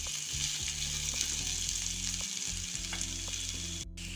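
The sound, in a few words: potatoes and onions frying while stirred in pan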